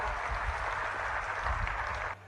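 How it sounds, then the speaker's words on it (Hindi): Crowd applause at a Haryana political rally, a dense steady wash of clapping from many hands lasting about two seconds before cutting off abruptly, with a faint low hum beneath. "अरे ताली तो मार दो"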